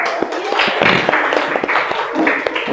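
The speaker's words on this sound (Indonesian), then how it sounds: "Berikan tepuk tangan" Classroom applause breaks out among students during a guidance lesson, a patter of scattered claps with a few sharp hand strikes standing out, fairly close and lively, with brief voices mixed in.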